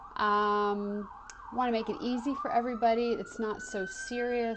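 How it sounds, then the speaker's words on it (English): An emergency vehicle siren wails outside, its rising tone faint behind someone talking indoors. "pardon the sirens"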